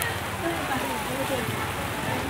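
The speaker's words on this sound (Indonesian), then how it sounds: "Ini di sore hari ini kita diguyur hujan ya." Rain falling on a traditional Saturday market in the village of Aek Loba in Indonesia: a steady, close hiss of rainfall with faint voices murmuring underneath.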